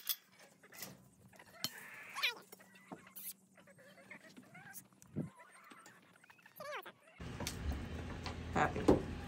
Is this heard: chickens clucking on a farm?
yes